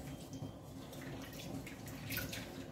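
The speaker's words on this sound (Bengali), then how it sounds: "বাইরের কলটায় জল ভরতে দিয়েছি" Water runs from an outside tap, filling at home in a steady, even rush with faint splashy highs, continuous and fairly quiet throughout.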